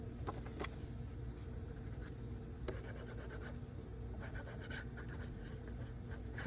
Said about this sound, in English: I like to score my card bases.